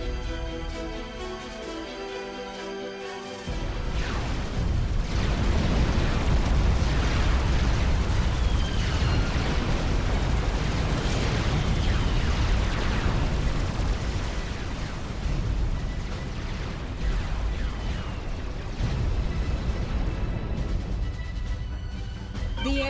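A long stretch of loud, dense explosions and booming blasts as a base is destroyed in a real-time strategy video game, after a few seconds of softer tonal game sound, continuing with scattered pops and crackles.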